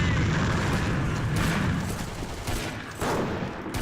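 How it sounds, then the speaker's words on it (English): An enemy grenade goes off in a video game with loud booming blasts and gunfire-like cracks. Dense bursts hit near the start, middle and end, over continuous noisy battle rumble, with voices mixed in. "It's an enemy grenade!"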